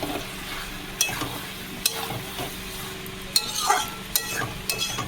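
Chicken curry sizzles and fries in a pan while a spoon stirs and scrapes it, with sharp metallic clinks at irregular intervals over a steady close hiss.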